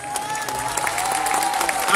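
Applause from a concert audience for the teachers of the Esperanza Azteca Colima children's orchestra and choir, a steady wash of clapping throughout with a sustained tone ringing above it.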